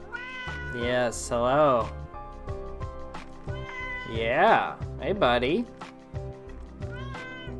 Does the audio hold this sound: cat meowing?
yes